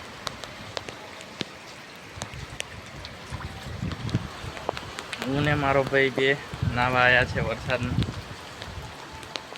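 Rain at Pavagadh makes a steady hiss of falling water in the background. Someone talks over it close to the microphone.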